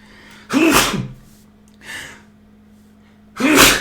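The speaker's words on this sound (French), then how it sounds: "petit coup d'éternuement" Two loud, close sneezes, separated by a softer sharp breath, each a sudden explosive burst that fades quickly.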